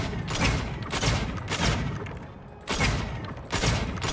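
Gunfire rattles in The Outer Worlds 2 on very hard difficulty, a loud dense burst of shots and thuds with brief dips between volleys.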